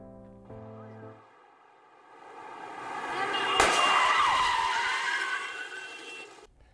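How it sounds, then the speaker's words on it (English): A car crash with skidding tyres in a San Francisco construction zone: a long, rising tyre screech that swells loudly, then a sudden sharp impact followed by a sustained harsh skid that cuts off. "It caused a big traffic problem in San Francisco, and one of those crashes was caught on camera."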